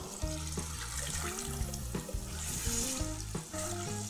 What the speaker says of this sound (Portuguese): pode pôr água aqui pra mim